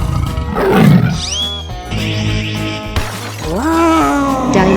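A tiger in a 3D animal slide video game gives loud, close roars with rising, drawn-out growling tones, mixed with crashing game sound effects and no speech.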